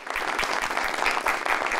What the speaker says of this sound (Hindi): दोनों के लिए तालियां।